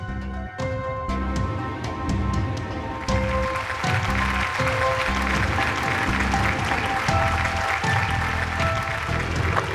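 Applause from an audience at a stage show rises under loud, rhythmic music with steady beats and tonal lines, the clapping partly buried in the mix.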